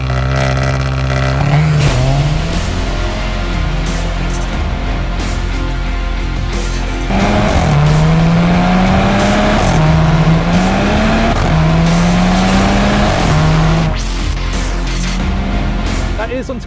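A 2016 Volkswagen Golf R Estate, four-wheel drive with quad tailpipes, accelerates hard. The engine rises in pitch through several gears with brief dips at each shift, loud and close, with a low constant drone beneath.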